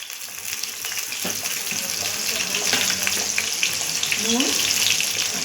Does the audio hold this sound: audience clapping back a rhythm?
no